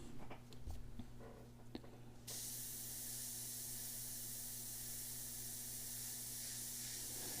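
An airbrush sprays paint for miniature painting at small scale, a steady continuous hiss that starts abruptly partway through and holds evenly to the end, close and fairly quiet, with no talking.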